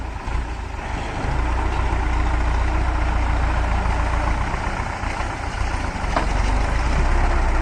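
A tractor engine runs steadily while loading soil into a trolley, a loud, close, continuous low rumble with a rough broadband mechanical texture and no talk.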